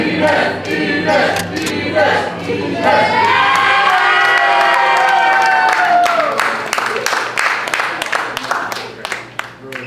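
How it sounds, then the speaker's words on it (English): A live audience at an after-dark show gives a warm round of applause and cheering, a dense, loud wash of claps and voices that swells, holds steady, then thins toward the end. "warm round of applause for my friend Ines Moreno."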